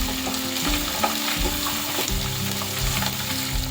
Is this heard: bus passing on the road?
no